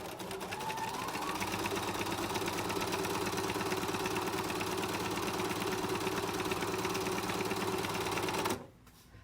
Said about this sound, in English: I'm sewing the center seam